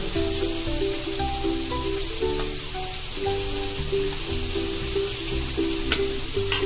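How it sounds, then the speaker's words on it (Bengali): Continuous sizzling of taro and spices frying in a pan, a steady crackly hiss heard beneath background music. "ভোট কচু আর মশলাটা ভালো করে ফ্রাই করে নেবেন"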